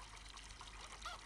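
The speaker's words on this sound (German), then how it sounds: "Hier können wir auch an den Wasserhahn das Ganze einmal auffüllen." Tap water trickling into a container in Farming Simulator 22, a faint, steady dribble that runs quietly throughout with a slight gurgle near the end, without any talk.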